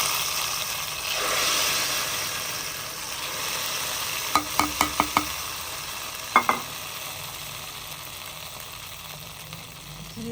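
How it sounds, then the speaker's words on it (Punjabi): Cumin and onion tempering sizzle in a pan for khichdi, a steady close frying hiss broken by a few quick clinks of a utensil against the pan midway. "ਜ਼ੀਰੇ ਤੇ ਪਿਆਜ਼ ਦਾ ਨਾ ਤੁੜਕਾ ਜਿਹੜਾ ਵਾ ਨਾ ਉਹ ਮੈਂ ਲਾ ਲਿਆ"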